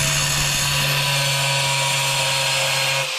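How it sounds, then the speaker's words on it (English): An angle grinder cutting a round hole in tile gives a loud, steady high-pitched whine with a constant hum beneath it. The sound holds unbroken from start to end with no talk over it. "But just let the weight of the grinder do it"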